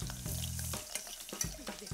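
Vegetables and chili flakes fry in a hot pan with a steady, close sizzle, broken by a few sharp clinks and scrapes of stirring toward the end.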